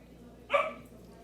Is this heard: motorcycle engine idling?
no